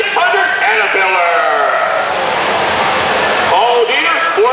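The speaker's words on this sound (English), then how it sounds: "Park of 2000 Kenworth with the big engine on board, a 600 Caterpillar." A 2000 Kenworth semi truck with a 600 Caterpillar engine at a semi truck pull in Bath, New York: a loud, steady engine roar runs throughout beneath an announcer talking over the public address.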